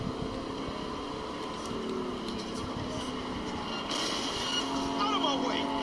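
Steady engine drone of a car driven in the video game Cyberpunk, a continuous mid-level hum with faint shifting tones, constant throughout with no clear breaks.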